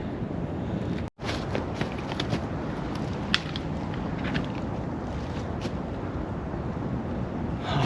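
Wind gusts across a winter survival camp outdoors, rushing steadily and buffeting the microphone with a constant broad roar. One brief dropout and a few faint knocks or steps break the noise.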